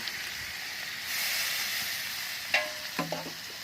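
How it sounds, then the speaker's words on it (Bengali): Meat sizzles in a pan with a splash of water added, producing a broad hissing fry that swells briefly. A few sharp clinks of stirring against the pan follow, heard close up without speech. "মাংসটাকে একটু নেড়ে চেড়ে সামান্য পরিমাণে একটু জল দিয়ে দেব।"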